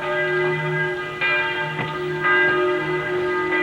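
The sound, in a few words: church bell ringing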